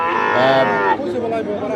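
A Friesian heifer calf gives a loud, drawn-out moo at a cattle market, followed by a second, rougher call, with faint crowd chatter behind.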